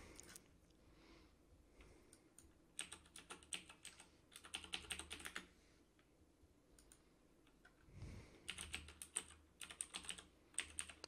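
Keys on a computer keyboard clatter in bursts of quick, light clicks, pausing between runs. The typing is moderately close and continues alone with no voices, alongside play at an online poker final table.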